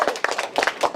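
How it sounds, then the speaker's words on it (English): A small group claps briefly and unevenly at an indoor cooking demo, sharp close hand claps in quick bursts lasting about a second. "But round of applause to you guys."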